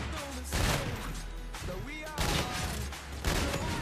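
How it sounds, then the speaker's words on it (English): Rapid gunfire crackles in a Call of Duty video game, several loud bursts of shots close together with faint game sounds between. "Shots."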